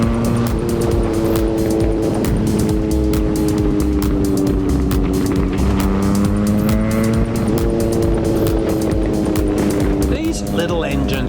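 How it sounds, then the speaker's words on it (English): Small motorbike engines on a touring ride in Vietnam, loud and close, droning and revving with pitch rising and dropping through gear changes, steady and continuous throughout. "Little engines make for piles of fun, what with needing to carry your corner speed and plenty of gear changes to keep the donk on the boil."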